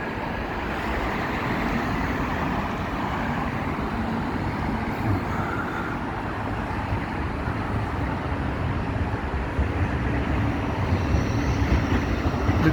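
Trams running along the Blackpool seafront produce a continuous loud rumble and roll of rail traffic, steady throughout and building slightly toward the end, with a wash of road noise and no voices.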